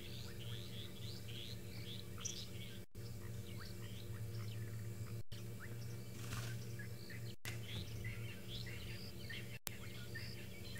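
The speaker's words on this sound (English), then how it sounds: "you can also hear all the frogs starting their evening chorus. some of the birds giving their last words before they go to sleep for the night" Birds chirp and call at dusk in a safari setting, many faint distant calls scattered over a steady low evening frog chorus, soft and continuous with no voices.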